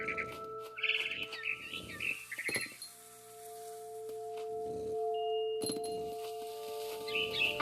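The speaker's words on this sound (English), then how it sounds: "I tried to be quiet, but the bird was really scared." Small bird chirps in the game What Remains of Edith Finch, bright short tweets in scattered bursts over quiet ambience with faint tones and clinks.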